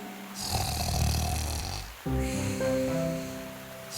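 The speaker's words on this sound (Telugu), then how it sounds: "ఎంత గట్టిగా గురక పెడుతోందంటే చెట్టు ఆకులు కూడా కదులుతున్నాయి" A wolf snoring loudly in an animated Telugu children's story, two long, heavy, rumbling snores in a row, close and prominent, with a snorting, wheezy texture.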